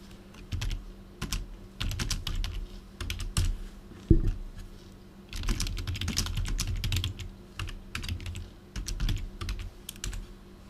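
Steady typing on a computer keyboard, a busy stream of close key clicks running for about ten seconds with brief pauses and one louder thump, with no voices.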